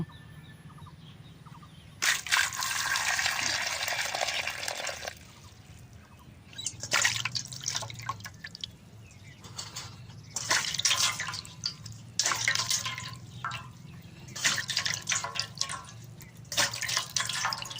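Ripe mangoes are washed by hand in water, with repeated splashing and sloshing bursts separated by quieter pauses, close by and moderately loud, with faint fowl sounds in the background.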